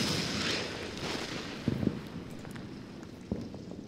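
Artillery fire in the WWII strategy game Order of Battle: a few distant dull thuds spaced irregularly over a steady rumbling game ambience.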